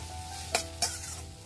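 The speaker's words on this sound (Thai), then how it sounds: "จากนั้นเราก็จะผัดให้ผักคะน้าสุกดีนะคะ" Chinese kale being stir-fried for pad see ew with thin rice noodles sizzles steadily in a pan, broken by two sharp scraping strokes of the spatula, close and without voices.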